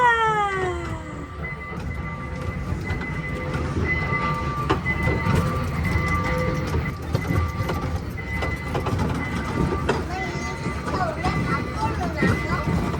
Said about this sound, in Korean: 이번엔 기차를 탈 거예요.